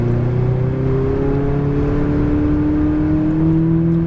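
A McLaren 570 accelerating at full throttle on a track, its engine note a loud, steady rising drone with climbing tones that hold close and strong for the whole stretch.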